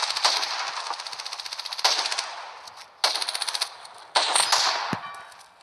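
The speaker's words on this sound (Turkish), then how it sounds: "Öyle bir çatışma oluyor ki. Çatışma çatışmaya benzemiyor arkadaşlar." Machine gun fire in a firefight comes as several loud bursts of rapid rattling shots, each string of rounds fading before the next volley opens up.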